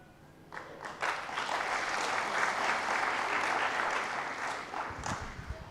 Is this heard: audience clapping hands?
yes